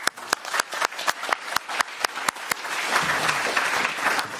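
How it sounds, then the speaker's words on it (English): Audience applause for conference panelists at a UNESCO-UNEVOC TVET event in Bonn, starting as sharp separate claps that swell into a dense, steady ovation filling the hall. "I would like you to join me to give them a raise of applause."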